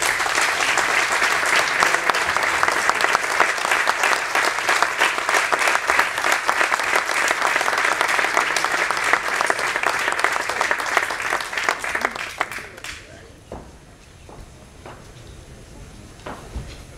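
A theatre audience at a silver medal ceremony in Sagunt gives loud, sustained applause for about twelve seconds that then fades out, leaving a quiet hall with a few scattered claps.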